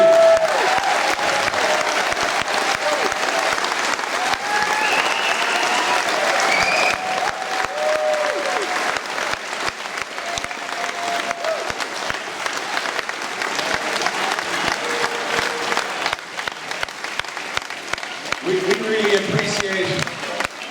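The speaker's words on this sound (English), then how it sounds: "take a round of applause from everybody" Sustained applause from an audience honouring a Gaelic football team panel at the 2016 SFC final celebration, dense steady clapping for about twenty seconds, close and loud, with a few voices and cheers mixed in.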